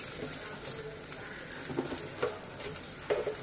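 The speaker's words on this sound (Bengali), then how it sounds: "এখন যেই কাঁঠালের দানাটা আমি হচ্ছে সিদ্ধ করে নিয়েছিলাম ওইটা আমি একটু তেলে ভেজে নিব" Boiled jackfruit seeds fry in mustard oil with a steady close sizzle, broken by a few sharper crackles and stirring scrapes.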